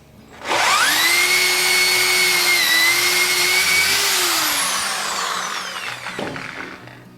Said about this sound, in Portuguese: estou fazendo aqui um teste com uma broca Forstner num pedaço de madeira